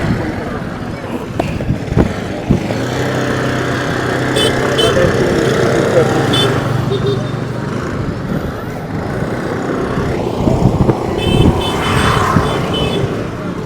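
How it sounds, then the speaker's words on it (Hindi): Scooters and motorbikes pass by near Ram Jhula in Rishikesh, their engines rumbling and buzzing close by in continuous street traffic, with a horn or two and someone talking over the noise. "यहाँ से काफ़ी स्कूटर और बाइक वगैरह जाती हैं हमेशा"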